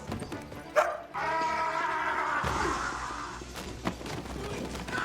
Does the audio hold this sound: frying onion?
no